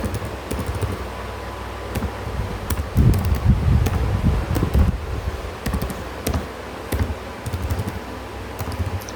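A formula is typed into a spreadsheet on a computer keyboard, with sparse clicky keystrokes over a steady fan hum and a brief rustling burst in the middle.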